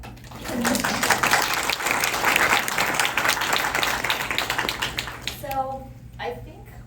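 An audience at a talk on threats to organic farming claps in a sustained burst of applause for several seconds, then it fades out and a voice follows.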